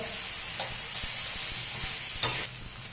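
Snake gourd with soaked toor dal and turmeric sautéing in a pan, a steady soft sizzle with occasional stirring scrapes and one brighter clatter near the end, no voices.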